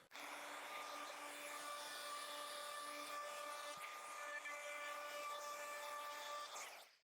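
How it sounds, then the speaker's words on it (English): A router runs steadily as it cuts a chamfer along wooden floating-shelf pieces, a loud, continuous whine with sharp tonal harmonics holding for about seven seconds before stopping abruptly. "the second thing I want to do before I put this together is to put a chamfer on both sides of where the stud pieces will attach to the back piece. We'll do that with the router"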